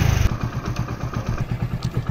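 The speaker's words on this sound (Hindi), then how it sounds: "आप देख सकते हैं बाइक स्टार्ट है" A Hero Splendor Pro motorcycle engine idles steadily after being started, a close, rhythmic low putter with even thumping pulses and light mechanical clatter.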